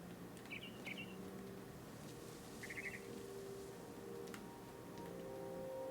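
Brief high chirps from a frightened bird in the video game What Remains of Edith Finch, faint, in a few short bursts over a quiet ambient hum.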